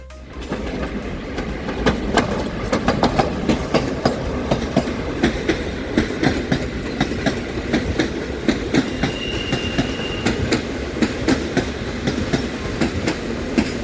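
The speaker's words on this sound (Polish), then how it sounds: "Przyjazd pociągu Polaregio Kamieńczyk do Szklarskiej Poręby." A Polregio regional train arrives at Szklarska Poręba station, its wheels clattering in a steady clickety-clack rhythm over rail joints with a continuous rumbling roar, heard close and loud without any talk.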